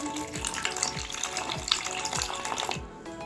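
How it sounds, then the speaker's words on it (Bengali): Water poured into flour for pitha batter, a steady splashing trickle running for a few seconds with faint clinks, close and moderately quiet, ending abruptly. "এবার আমি জল দিয়ে দিচ্ছি"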